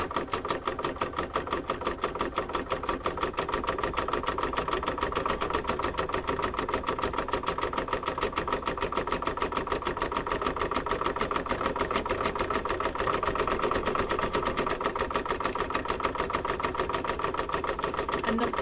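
An embroidery sewing machine stitches a felt coaster in a fast, even, rapid rhythm, running continuously for the whole stretch at moderate loudness.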